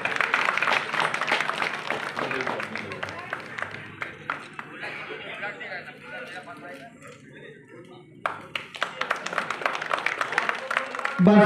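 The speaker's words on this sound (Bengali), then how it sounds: "তপন দাশগুপ্ত মহাশয়, জোরে একটা করতালি হবে।" An audience applauds at an outdoor blood donation event held on a club field, with a sustained wave of clapping that eases in the middle and then swells again, with voices and chatter mixed in.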